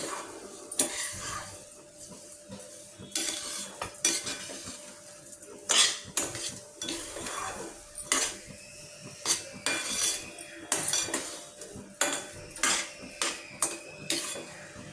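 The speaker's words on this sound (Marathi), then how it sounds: "ती साखर घातली आणि हलवून घेते" A spoon scrapes and clinks against a pan while semolina and sugar are stirred for sheera, sharp metallic scrapes and taps repeating irregularly throughout, close and fairly loud over a quiet background.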